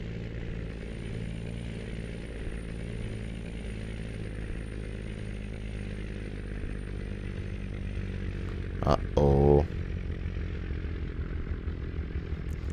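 A heavy Kenworth W900B truck pulling a quad lowboy in American Truck Simulator has its engine labouring under load, a continuous low droning rumble, with a short spoken exclamation near the end.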